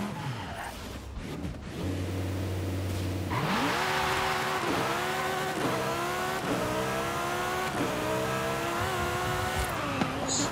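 A 1,200 hp V10-swapped Ferrari 458 Italia launches hard in Forza Horizon 5, idling briefly before a loud rising roar that climbs through several quick gear shifts, each pitch sweep stepping up again.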